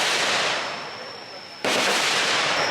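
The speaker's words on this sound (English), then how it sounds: "there was also a gun range where you could go and shoot guns" Loud, sharp gunfire from a nearby shooting range at a tourist site in southern Vietnam, heard as dense broadband bursts with a sudden heavy blast partway through and a faint steady whine underneath.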